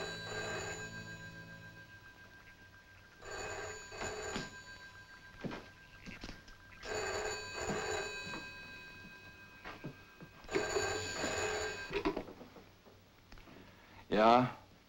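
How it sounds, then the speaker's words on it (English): An old-style telephone bell rings in repeated bursts with pauses between, fairly close, ending with a short sharper jangle. "it began when I heard my phone ringing."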